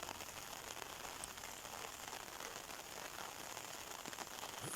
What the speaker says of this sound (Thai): ฝนกำลังตกเด้อมันนี่เนาะ